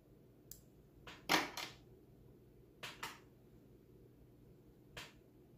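Scissors snip the frayed thread end on a Singer 401A sewing machine, a few quiet, sharp, close clicks spread over several seconds in a hushed room.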